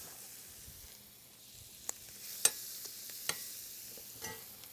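Butter melting in a hot pan with browned fond left from searing beef for stroganoff, giving a soft steady sizzle with a few brief clicks and scrapes, no voices.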